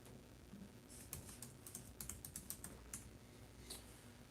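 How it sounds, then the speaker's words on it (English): Keys clatter on a computer keyboard in quick, uneven bursts of typing, fairly faint and close against a low room hum, with no talking. "I'll type that in here."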